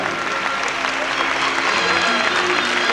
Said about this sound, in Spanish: El aplauso grande para ellos.